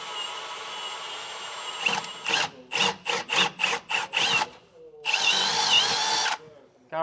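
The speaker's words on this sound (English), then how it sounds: "So we'll go ahead and get all these pre-drilled." A power drill pre-drills holes into a thick steel truck frame, running in a steady run of short bursts, then one longer sustained whine near the end.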